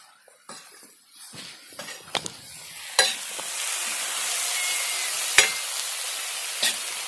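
Soaked moong dal tipped into a hot pan with cooking vegetables, a few clattering drops and stirring scrapes followed by a steady, moderate sizzle of frying that carries on alone.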